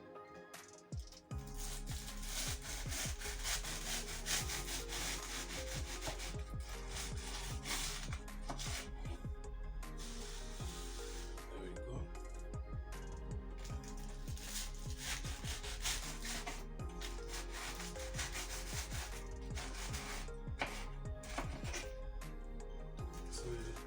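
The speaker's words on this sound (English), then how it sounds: "So I'm going to trim off some edges." A knife trims the edges of baked puff pastry sheets for mille-feuille with repeated crisp crunching and scraping cuts, flaky crackles and board taps, close and continuous, with no speech.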